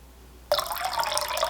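Water tinted with teal icing-gel dye is poured into a container, a sudden steady splashing pour starting after a quiet moment and continuing, close and fairly loud.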